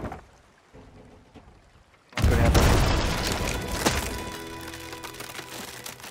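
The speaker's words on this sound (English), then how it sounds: "the one shot with the chain shot brings the mast down of any ship." A Sea of Thieves ship cannon fires chain shot at sea, a sudden loud booming blast after two seconds of quiet creaking, followed by a sustained rumbling, crackling roar with ocean wash underneath.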